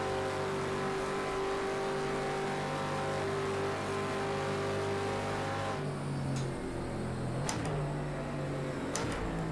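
A Ford Mustang race car in Project Cars 2 holds a steady, droning engine note, then shifts pitch and briefly changes tone as gears change during a lap, heard alone without talk.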